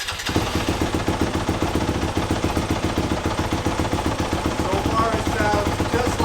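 A 2021 Yamaha YZ250FX dirt bike fitted with an FMF Factory 4.1 RCT aluminum silencer cold-starts on the button and settles into a steady, rapid, popping idle, close by.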